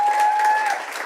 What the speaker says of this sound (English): Big round of applause for Ling.